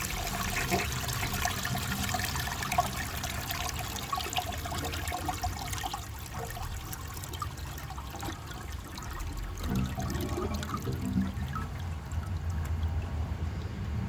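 A 1974 Borg Warner toilet flushing with a dish towel in the bowl: a continuous rushing and gurgling wash of water that runs unbroken for the whole stretch, close by and moderately loud, with no voices.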